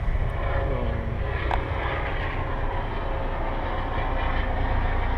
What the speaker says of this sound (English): Yeah, we get a lot of helicopter traffic.